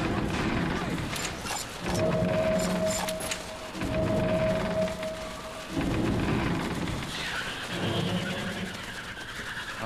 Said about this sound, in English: Oh, I remember the thunder.